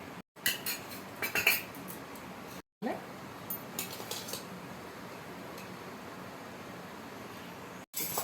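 A pot of pudina chicken biryani is covered over, giving a few metallic clinks and clatters of a lid and utensils at first, then a quiet low hiss.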